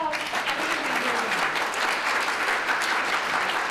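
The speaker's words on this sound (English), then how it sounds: "please, let's give everybody a round of applause" An audience at a partnership announcement event in Louisiana breaks into steady applause, a dense, continuous clapping from a sizeable crowd heard at moderate distance, with no talking over it.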